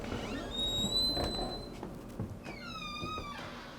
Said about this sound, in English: My squeaky doors.